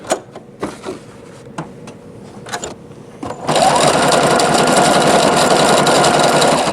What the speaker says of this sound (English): I don't suggest this sewing machine for any like constant heavy duty use